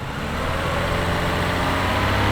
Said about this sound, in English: Increase the RPM for 10 seconds. We'll rev it up.